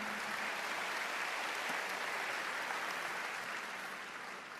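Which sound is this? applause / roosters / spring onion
applause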